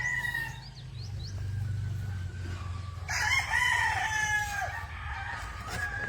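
On a big farm in the Philippines, a rooster crows loudly nearby, with other fowl crowing and clucking further off over a low background rumble.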